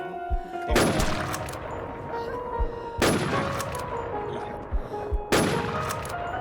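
Gunfire in the video game Infestation The NewZ comes as three loud, sharp bursts spaced a couple of seconds apart, each ringing out into a decaying tail with a brief lull between shots.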